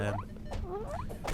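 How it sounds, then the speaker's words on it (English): A faint series of short electronic chirps and rising tones in the game Cobalt, repeating irregularly over a low background hum. "That beeping noise you can hear"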